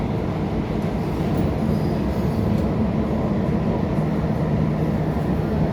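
A passenger train riding along the rails in Saudi Arabia, heard from inside as a steady loud low rumble of wheels and carriage with faint rail squeal, continuous throughout.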